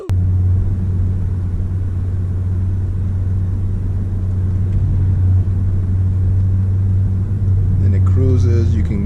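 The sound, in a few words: Audi RS3 five-cylinder engine while driving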